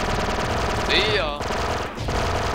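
Repeater rifle fire in Star Wars: Republic Commando rattles in a dense rapid burst that cuts off sharply, followed by a second short burst, loud and close over game noise.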